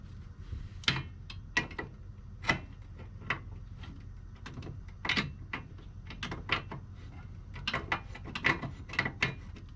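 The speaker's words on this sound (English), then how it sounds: "I'm just gonna keep tightening it down until it starts to get tight." A ratchet tightening a bolt on the rear A-arm of a 1974 Volkswagen Beetle, irregular runs of crisp metallic clicks and pawl ticks, close but quiet, heard alone with no voices.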